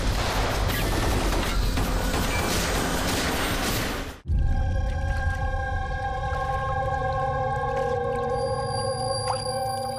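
A burst of rapid pistol gunfire in a police crime drama, loud and dense for about four seconds, then a sudden cut to a quieter scene with sustained tonal music.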